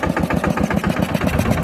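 A New Holland tractor engine runs close by with a steady, rapid low thumping idle-like pulse, loud and continuous with no voices over it.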